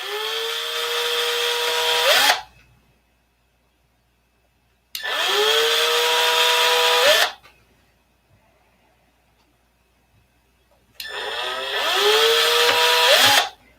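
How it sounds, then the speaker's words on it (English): A power drill boring holes for a molded wooden canopy, worked close to the fingers: three loud, steady whining bursts of a couple of seconds each, every one winding down in pitch as the trigger releases, with quiet gaps between. "you see me drilling these holes really close to my fingers"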